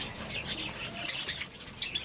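Soft chirps and squeaks of small Java sparrows moving in a nest box, with faint rustling and fluttering close by, over a steady low background hiss.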